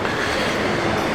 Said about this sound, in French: Alors on a le métro juste à côté